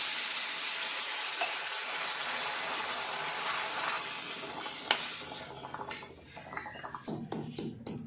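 Water poured into a pan of frying spices and vegetables for a home-cooked curry sets off a steady loud hiss that slowly fades into softer bubbling, with a few clinks of a utensil against the pan near the end.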